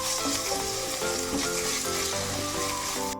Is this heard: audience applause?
no